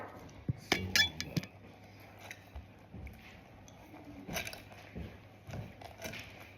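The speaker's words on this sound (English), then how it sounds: "This is hard to stir." Chocolate chip cookie dough is stirred in a bowl with a utensil, giving scattered scraping and dull clinks against the bowl, a few sharp knocks early on, then softer irregular scrapes. Low background noise sits under it.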